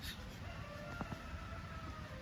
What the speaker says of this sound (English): Woods roosters.